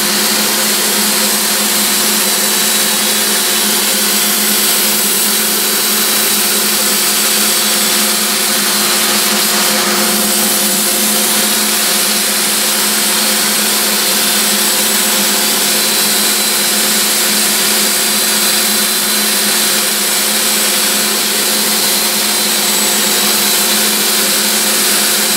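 Sandpaper on a flexible pad works a segmented wooden bowl spinning on a lathe, giving a steady, continuous motor hum and whirring abrasion that stays constant and fairly loud throughout, with no talking.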